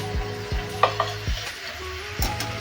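Beef innards for a Manipur-style curry frying in a pan, a moderate sizzle with a few periodic stirring strokes and a couple of faint utensil clinks nearby, and no talking.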